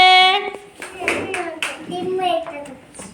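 Children clap together in a classroom during a Diwali lamp-drawing activity, a short burst of hand claps mixed with young voices and an adult talking over them.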